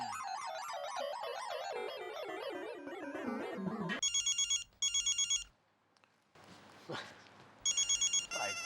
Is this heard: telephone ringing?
yes